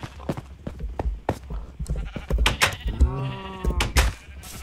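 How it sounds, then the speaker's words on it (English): Sheep bleat in the Minecraft video game while being sheared, with short wavering bleats mixed with sharp clicks and pops, loud and close and without talk. "we'll just do another quick round of shearing the sheep"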